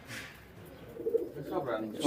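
Pigeons kept for flying coo softly in a loft, a few low murmuring coos rising toward the end, faint and close, with quiet background noise.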